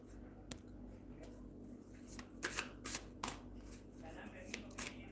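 A deck of tarot cards is shuffled close by in a quiet room, giving soft, irregular bursts of riffling and slapping over a low background hum.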